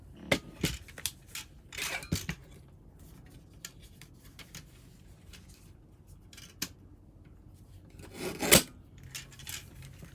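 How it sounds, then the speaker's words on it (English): A mini paper trimmer slices through coffee-dyed index cards in quiet, scattered strokes, with soft scraping and sharp snips spread across the recording, the loudest cut near the end. "I'm just going to use my mini trimmer for this."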